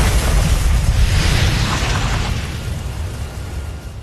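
A huge, roaring explosion from an animated fantasy battle, with dense low rumble and broadband blast sustained loudly throughout and slowly fading toward the end.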